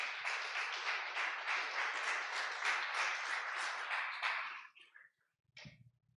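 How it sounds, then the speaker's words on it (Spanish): A church congregation bursts into sustained applause, dense steady clapping with cheering for about four and a half seconds before it fades out, then a brief low thump. "Denle un fuerte aplauso a Dios."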